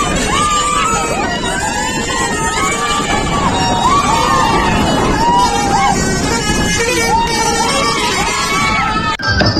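A truck's musical horn plays the snake-dance (nagin) tune in a sustained, wavering melody, loud and continuous over a noisy crowd of young men cheering and dancing in the street.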